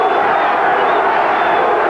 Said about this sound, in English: The crowd is on its feet in support of him.